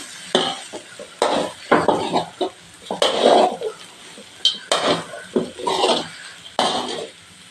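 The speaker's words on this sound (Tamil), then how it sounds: "அப்படியே சாதத்தை இதில் சேர்த்திட வேண்டியது தான் இப்போ நல்லா கலந்து விட்டுருக்கோம்" Cooked rice being mixed with grated coconut, mustard seeds and turmeric in a pan, a spoon scraping and clattering against the metal in repeated strokes, with no one talking.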